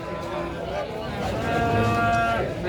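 A Simmental calf of about three to four months moos at a cattle market, a loud drawn-out call close by that rises toward the end, over busy market chatter.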